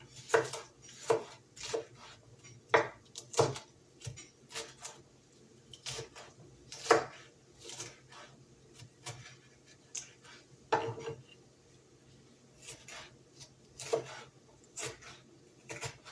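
Knife strikes on a cutting board chopping bell pepper in irregular bursts, some quick runs of chops, close by with no talking.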